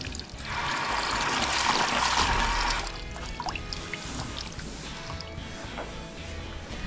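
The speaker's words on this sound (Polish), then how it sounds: "jest zimna woda." Cold water runs from a calf milk-mixing machine in a cattle barn, a bright splashing rush for about two seconds, then quieter dripping and trickling.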